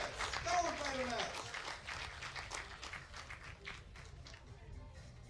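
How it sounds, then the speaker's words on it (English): Spectators applaud skeet shooting finalists at a bronze medal match, with moderate, somewhat distant clapping under an announcer's voice that fades slightly toward the end. "And now send them on the line with a big applause."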